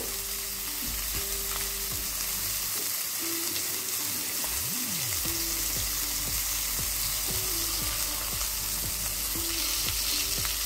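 Tandoori chicken brushed with butter sizzles steadily in a hot kadai with butter or ghee, a continuous, even frying hiss with no voices.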